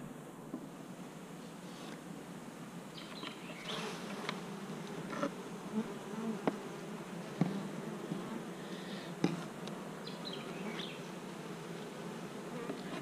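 Honey bees buzz steadily around a hive in an outdoor bee yard, a continuous insect hum with louder individual bees passing close by now and then, and no talking.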